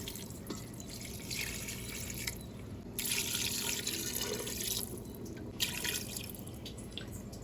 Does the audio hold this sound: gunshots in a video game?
no